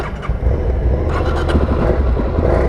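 A 2019 Suzuki DRZ400 SM carbureted motorcycle engine idles steadily up close, a loud continuous low rumble that holds even throughout.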